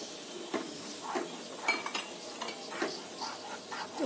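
Semolina roasts in desi ghee in a pan over a medium flame while a spoon stirs steadily, giving soft repeated scrapes and light clinks over a faint sizzle, close and quiet.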